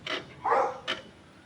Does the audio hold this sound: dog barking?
yes